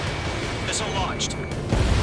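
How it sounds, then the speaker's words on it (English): A missile launches in the combat flight game Ace Combat 7, a low rumbling whoosh that swells near the end under ongoing game audio and voice chatter. "Missile launched."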